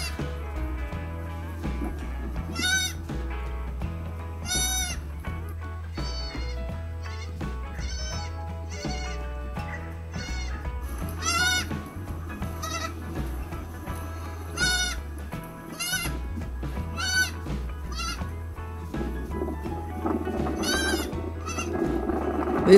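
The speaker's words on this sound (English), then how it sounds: "She's chasing one of the other goats." Goats bleat repeatedly and loudly, their wavering cries overlapping at irregular intervals over a steady low rumble.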